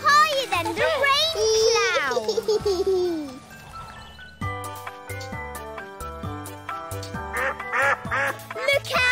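Cartoonish duck quacks ring out amid bright, bouncy music, with a voice chattering over the opening.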